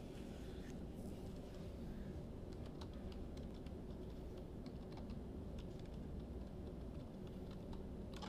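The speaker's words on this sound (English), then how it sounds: "we're going to type in our URL for the Aries Wizard" Keys tapped on a computer keyboard to enter a web address, soft rapid clicks spread over a steady background hum, faint and close, no talk.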